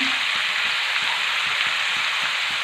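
Finely chopped onion frying for egg bhurji, a steady dense sizzle with soft crackle and faint stirring scrapes throughout, close and continuous.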